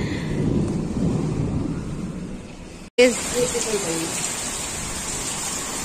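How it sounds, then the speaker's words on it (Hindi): Heavy rain pours steadily during a thunderstorm near Kanpur, a dense close hiss throughout, broken by a sudden sharp crack midway with low rumbling after, as someone talks over it. "बारिश बहुत ज़ोर से हो रही है आप देख सकते और इतनी तेज़ बिजली कड़क रही है"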